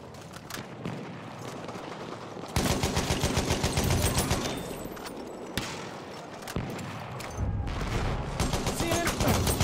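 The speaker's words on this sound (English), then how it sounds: "Enemy machine gun!" Machine gun fire from the World War I shooter game Battlefield 1 rattles in dense, rapid bursts, broken by brief pauses and mixed with heavy battle noise throughout.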